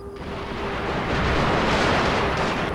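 Massed cannon and gatling fire in a Total War: Shogun 2 battle, a dense continuous roar of overlapping blasts that builds steadily and stays loud throughout, with no voices over it.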